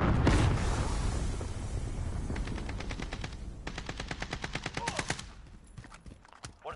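Loud automatic gunfire in a Call of Duty Modern Warfare multiplayer match, rapid bursts following a heavy blast, close and dominant, with brief game voice callouts.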